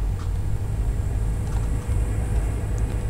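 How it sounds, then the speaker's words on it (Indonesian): A truck passes on the road during a long-distance bus trip from Denpasar to Jakarta, heard as a steady low rumble with road noise throughout and no talking. "wah truk gundul"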